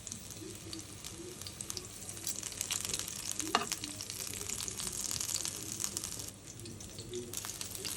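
Pieces of pointed gourd fry in mustard oil in a frying pan, giving a steady close sizzle with a brief clatter partway through as more pieces go in.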